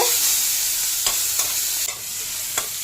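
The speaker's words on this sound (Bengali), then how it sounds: "তেল ভালোভাবে গরম হয়ে গেছে, তো প্রথমে নুন হলুদ মাখানো চিংড়ি মাছগুলোকে ভেজে নেব।" Steady close sizzling of salt-and-turmeric-coated shrimp frying in hot mustard oil, with a few sharp scraping clicks from stirring and no voices.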